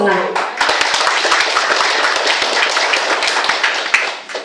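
An audience claps together in a room, a close, loud burst of many sharp individual hand claps in a fast, irregular rhythm that follows a brief voice at the start.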